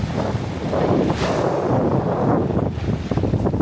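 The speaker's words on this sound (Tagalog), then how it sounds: "Malakas. Habagat na kasi. Habagat season na kaya maalon." Strong southwest monsoon wind sweeps across a beach with fishermen's boats pulled up, and rough sea waves break beneath it. A loud, steady roar of gusts buffets the microphone throughout, with no talking.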